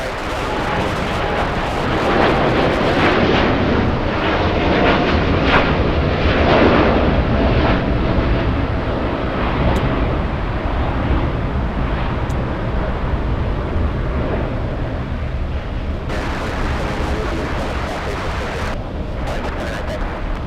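An airliner flies over near LAX, its broad engine roar loud and steady across the whole stretch, with voices talking on top of it.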